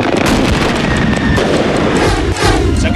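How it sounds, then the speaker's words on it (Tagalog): Confiscated illegal firecrackers burned in a heap at Camp Karingal, Quezon City, crackle and boom in a dense, continuous barrage of loud overlapping bursts and pops throughout. "nayanig ng sunugin ang mga nakumpiskang illegal na paputok"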